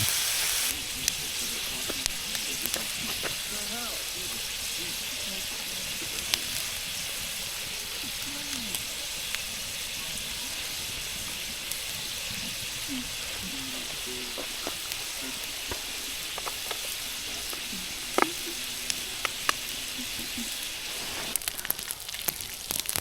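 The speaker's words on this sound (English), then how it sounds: "I decided to add some bacon, but we got all that cooking up" Bacon sizzles in a pan over a campfire in a national forest, a steady close frying hiss running throughout with scattered pops and crackles, while faint background voices come and go.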